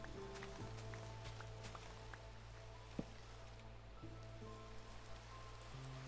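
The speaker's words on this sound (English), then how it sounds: "I can get rid of the rain sound." Steady rain patters on a surface as continuous hiss, with constant droning tones and a single brief knock partway through, no voices.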